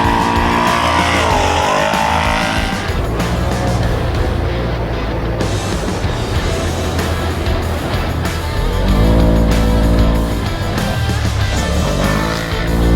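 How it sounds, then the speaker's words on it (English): A Polaris 1000 UTV in an off-road race, its engine roaring loud and sustained as it revs and pulls, with the pitch rising and falling through gear changes and throttle swells across the whole stretch. "We ended up building this UTV Polaris 1000."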